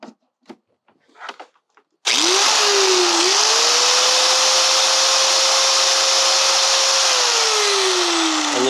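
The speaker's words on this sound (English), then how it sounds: "So this is a grinder from Harbor Freight." A Harbor Freight grinder running on an Anker SOLIX C1000 portable power station spins up abruptly after a few light clicks, then holds a loud, steady close-up whine with a rising-then-settling motor pitch before starting to wind down.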